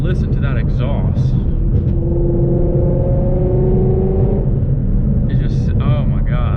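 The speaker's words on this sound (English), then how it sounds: "just listen to that exhaust" A deep, continuous engine rumble from a 2017 Shelby GT350's exhaust fills the cabin, with a person talking over it at the start and end.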